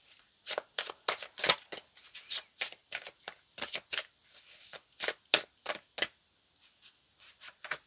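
Tarot cards get riffled and flicked in quick, crisp bursts, a steady string of close snaps with brief pauses as cards are pulled from the deck.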